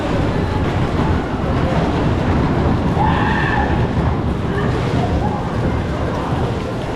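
Big Dipper, a century-old wooden roller coaster at Blackpool, rumbles and rattles continuously at close range, a dense rolling roar with a brief higher squeal partway through and no clear talk.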